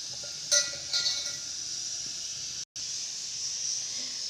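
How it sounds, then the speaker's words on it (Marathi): Oil in a kadhai over a lit gas stove hisses with a steady, bright sizzle, with a couple of faint metallic clinks early on and a brief cut-out partway through. "आता आपल्याला कढईत तेल घालायचे आहे जरासं."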